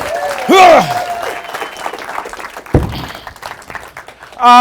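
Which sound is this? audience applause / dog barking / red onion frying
audience applause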